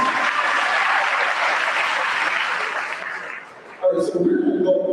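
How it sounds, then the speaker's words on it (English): Audience applause at a middle school promotion ceremony, a loud sustained burst of clapping that fades out after about three seconds, followed by someone talking. "Come on, clap for them"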